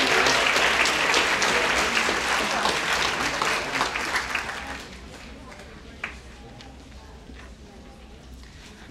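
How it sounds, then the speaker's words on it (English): Applause from the audience at a high school awards ceremony, a dense crowd of hands clapping loudly for several seconds, then thinning out and fading to scattered claps and room murmur. "Let's give them another round of applause"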